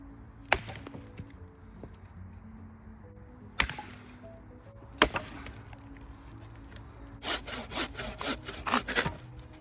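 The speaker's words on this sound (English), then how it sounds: "next thing I'm going to need to do is cut my Ys for the apex" A kukri knife chopping and cutting wooden Y sticks outdoors, with several sharp isolated chops followed by a quick burst of rapid strikes, close and clear, with no speech.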